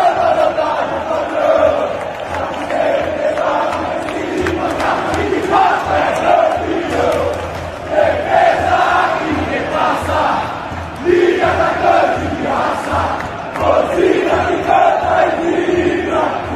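Palmeiras football supporters in a stadium crowd cheer and chant continuously, a dense, loud roar of many voices sustained throughout with rhythmic surges.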